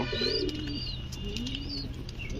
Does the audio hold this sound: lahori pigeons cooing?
yes